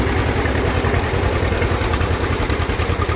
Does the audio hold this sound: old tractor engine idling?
yes